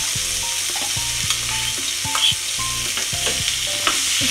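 Mutton keema stirred and mixed in a frying pan gives a steady sizzle, punctuated by repeated scraping strokes of the spoon against the pan in an uneven rhythm, close and clear with no voices.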